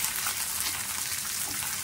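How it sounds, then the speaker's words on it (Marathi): Green chillies and garlic cloves sautéing in a pan over low flame, a steady, dense sizzle with a watery crackle that holds even and close throughout, with no talking. "आपण परतवून घेणार आहोत व्यवस्थित।"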